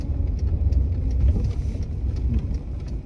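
Car rolling slowly along a narrow road, a steady low engine rumble with road noise throughout, close and continuous, no voices.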